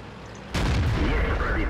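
A single heavy tank gun blast in World of Tanks, a sudden loud boom followed by a rumbling tail with soft background noise before it.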